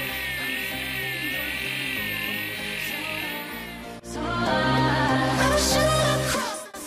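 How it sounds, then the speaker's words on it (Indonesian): Electric drill boring holes in a metal lamp ornament during welding and assembly work, a sustained whining drone that breaks off briefly and resumes with rougher, louder grinding until it winds down. "Lubangi ornamen dengan bor untuk pemasangan baut roving."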